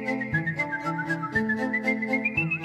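A professional whistler performs a sustained, clear whistled melody over a steady musical accompaniment, the whistle bright and prominent from start to finish.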